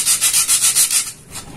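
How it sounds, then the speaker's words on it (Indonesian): Sandpaper rubbing across a small hebel (aerated concrete block) mini bonsai pot in about six quick, even back-and-forth strokes, then a pause and one last stroke. The scratchy rasp is close and alone, with no talking. "Tinggal kita ratakan dengan amplas sahabat."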